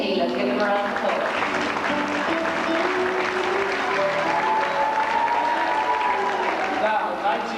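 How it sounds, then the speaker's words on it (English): An audience applauds contestants at the Miss Ireland 1992 beauty pageant, with dense sustained clapping that fills the hall, while a voice carries on over it. "17 and 18, let's give them a round of applause."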